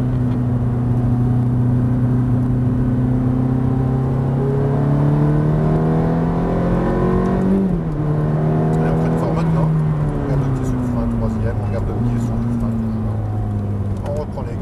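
Ferrari F430 accelerating on a race track, its engine note climbing steadily in a loud, close, continuous rise, dipping briefly around a gear change before pulling hard again; a voice talks over the engine throughout.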